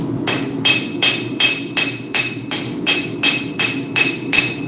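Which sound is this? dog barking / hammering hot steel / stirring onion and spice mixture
hammering hot steel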